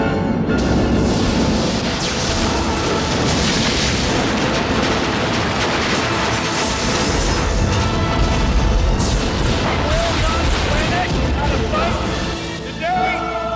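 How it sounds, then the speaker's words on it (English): Neighbors' Fourth of July fireworks going off outside at night, dull booms and pops heard from indoors, continuous and muffled beneath people talking. "We got some fireworks going on outside."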